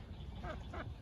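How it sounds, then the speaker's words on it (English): A duck at a fair gives two short, faint quacks in quick succession over a low background rumble. "There's a duck."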